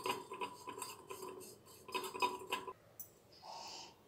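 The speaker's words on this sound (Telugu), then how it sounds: "ఈ బ్రష్తో దీన్ని చక్కగా ఇలాగా ఈ పేస్ట్ అంతా కూడా అప్లై చేసి నీట్గా ఇలాగా స్క్రబ్బింగ్ లాగా" A brush scrubs silver pooja items coated in cleaning paste, giving quick rhythmic scratchy strokes with light metallic clinks for about three seconds, then a short pause and a softer hiss of brushing.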